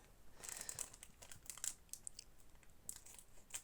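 A Pokémon 151 booster pack's foil wrapper is handled and torn open, crisp close crinkles and short bursts of rustling plastic arriving in uneven clusters.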